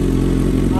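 Kawasaki ZH2 motorcycle engine running steadily up close, a loud, even idle-like rumble with a constant low drone, with a voice speaking briefly over it.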